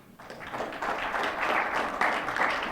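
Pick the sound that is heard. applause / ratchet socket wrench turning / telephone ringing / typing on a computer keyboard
applause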